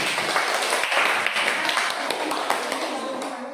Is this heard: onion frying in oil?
no